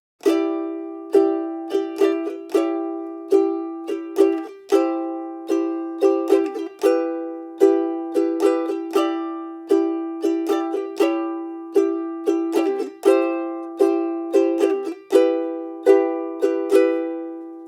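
A ukulele strums and plucks the chord progression of a song alone, bright and close, with no singing.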